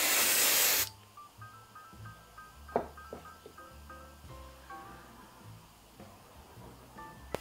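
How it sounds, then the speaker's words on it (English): Hairspray hisses onto styled vintage poodle curls in a single loud, close burst lasting under a second, followed by quiet room sounds and soft handling noises. "I'm gonna give it a last spray"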